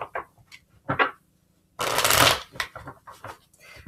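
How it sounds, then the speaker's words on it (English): Cards in a reading deck are shuffled in short bursts of close, crisp shuffling, one longer and louder riffle in the middle, with short pauses between them. "we're gonna do a full shuffle"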